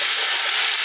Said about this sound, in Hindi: अदरक ना हल्का हल्का फ्राई हो गया